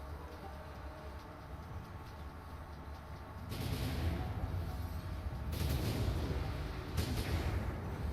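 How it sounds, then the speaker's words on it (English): Spaceship weapons fire in the space combat game Pirate Galaxy, heard as several loud broadband bursts over a steady low engine rumble, each lasting about a second or more, with no talk. "I think I'm going to shoot at anything that moves."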